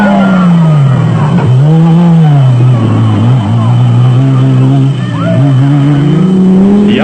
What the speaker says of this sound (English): with Franz Senior driving, arrive on the scene in 3rd place in the immaculately prepared Porsche-powered B Motors Chenoweth.